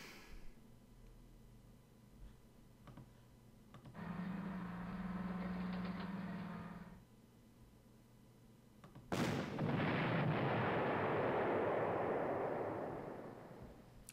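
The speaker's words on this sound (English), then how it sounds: "Yeah, it's artillery, obviously" Artillery fire in the strategy game Panzer Corps, with two heavy bursts: a sustained roaring blast lasting a few seconds, then a sharp loud crack followed by a longer rumbling roar that slowly fades.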